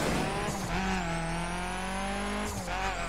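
Chevrolet Silverado street-spec pickup engine in The Crew racing game, a steady droning engine tone held under a tire squeal, with brief gear-shift dips near the start and end.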